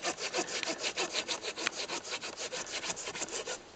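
A hand saw cuts through wood in steady back-and-forth strokes, about six per second, each a bright rasping scrape, close and fairly loud with no talking.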